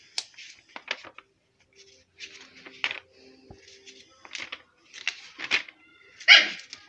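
A small dog yips and barks in short, scattered bursts at close range while it scuffles with something, mixed with light clicks and rustling and no speech.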